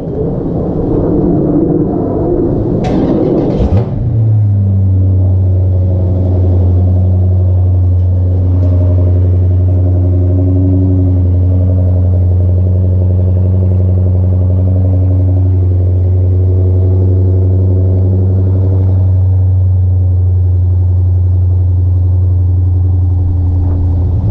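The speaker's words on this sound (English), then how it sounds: "I'm just gonna start the car" An engine cranks briefly and catches, then settles into a loud, steady idle hum that runs on without stopping.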